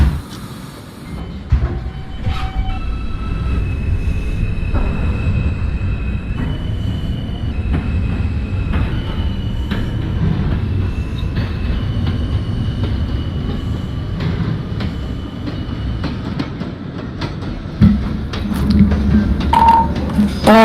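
An NYC Subway R160A Alstom train on the W line to Gravesend – 86 Street, simulated in the OpenBVE video game, rumbles steadily with low rolling noise, wheel clatter and occasional squealing tones, loud and continuous throughout.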